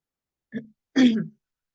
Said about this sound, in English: have to bear with me with this cough